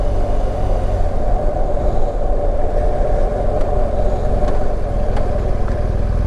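A car driving along a rural road, heard as a steady, close rumbling engine and road noise that holds constant throughout with no talking.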